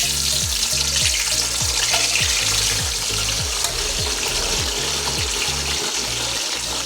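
Street food frying in a big wok over a backyard fire, a steady loud sizzle of hot oil with faint stirring and clinks, no talk.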